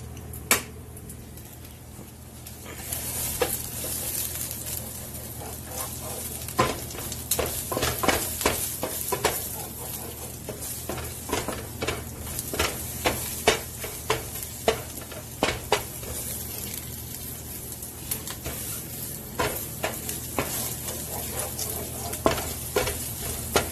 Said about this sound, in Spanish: vamos a dejar que se fríe tantita la cebolla